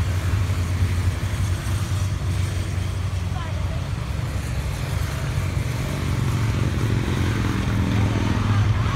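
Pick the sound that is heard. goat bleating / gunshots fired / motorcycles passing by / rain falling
motorcycles passing by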